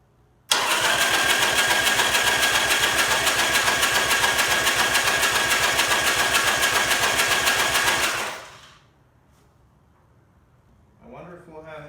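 Buell XB12R motorcycle engine cranking and catching, a loud steady engine roar for about eight seconds that then cuts off, followed by brief faint sounds near the end.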